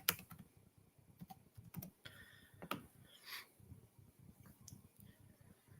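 Up close, someone types on a computer keyboard in quick irregular bursts of sharp key clicks, with a few louder taps and short pauses and no voices.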